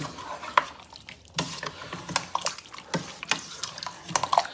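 Drained kidney beans and canned Baja corn stirred into a pot of chili mac with ground meat, giving wet, thick squelching spoon strokes in an uneven rhythm, close and alone.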